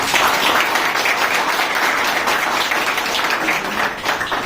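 An audience at a coaching institute event breaks into loud, continuous clapping, a dense wash of hands lasting the whole few seconds with no voices over it.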